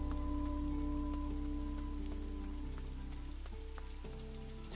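Rain falls steadily in the video game Fall of Porcupine, a constant close patter and hiss over a soft tonal music bed, with no voices heard.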